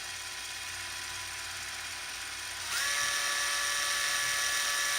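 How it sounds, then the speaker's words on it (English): Cordless drill with a step bit cutting into the plastic housing of a 1973-87 Chevy/GMC tail light, a thin high whine that spins up abruptly and holds steady, close and fairly quiet with no talk. "You can take that same drill with that drill bit, that step bit, stick it on there and make sure you're centered up, and you want to run nice and easy with it."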